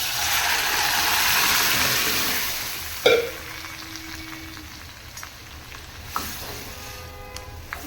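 A loud steady sizzle of hot oil tempering that gradually softens as mashed moth bean lentils are poured in, with a sharp clatter partway through and a few light knocks of a utensil afterward.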